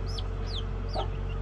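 A hen clucks near newly hatched chicks on a poultry farm, with a few short clucks and high bird calls over steady low background hum, no talk.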